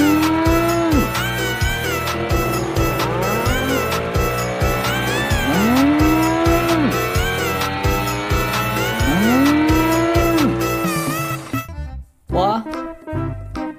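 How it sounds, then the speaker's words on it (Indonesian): A brown-and-white spotted mother cow moos in long, drawn-out calls over a busy, loud background of steady rhythmic music and vehicle noise, with the calls recurring several times before the sound drops out abruptly near the end. "Induk sapinya."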